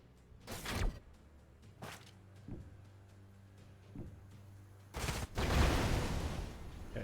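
Gunfire in Age of Wonders Planetfall: a few sharp bursts and thuds spaced apart, then a longer, louder volley with sweeping effects.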